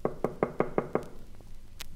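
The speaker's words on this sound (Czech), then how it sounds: "Vlk šel zatím rovnou k babiččině chaloupce a zaklepal na dveře." Six quick, evenly spaced knocks on a wooden cottage door in a 1966 Czech audio drama of Little Red Riding Hood, close and crisp with nothing else over them, followed by a faint pause.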